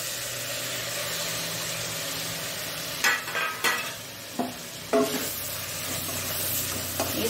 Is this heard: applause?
no